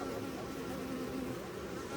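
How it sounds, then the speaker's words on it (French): Honeybees buzz around a beehive being closed up for winter, a soft continuous droning hum with no voices. "je sais qu'il y a plein d'abeilles dessus"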